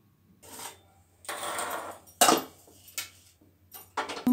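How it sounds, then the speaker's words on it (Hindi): Khoya roasting in a pan for coconut panjiri is stirred with a metal spatula, making several separate scraping and clinking strokes against the pan, close and clear with pauses between them. "हम खोए को थोड़ा सा भून लेते हैं।"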